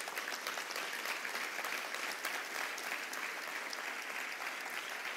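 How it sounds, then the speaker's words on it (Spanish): Sustained applause from a church congregation, steady and even throughout, fairly quiet and distant-sounding with no voices rising above it. "Dale un aplauso poderoso al Señor."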